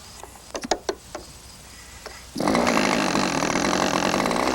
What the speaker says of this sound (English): we've already got a little fuel up there in the engine, so let's see if it starts